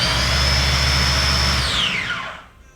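A Philips Avent blender runs with a loud, steady whirring motor and a high whine, then spins down in a falling pitch and stops near the end.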